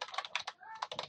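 Quick bursts of computer keyboard typing while entering a site name in Windows 7 server settings: close, crisp clicking keystrokes in a fast rhythm with a brief pause in the middle, no talking.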